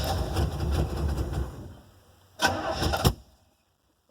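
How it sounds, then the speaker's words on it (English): A 1968 Buick Electra 225 barn-find engine cranks and catches, running roughly before cutting out, then a short second burst of cranking follows with a brief pop at the very end, close and fairly loud. "I heard backfire."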